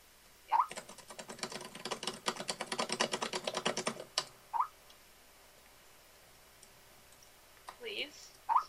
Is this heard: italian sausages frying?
no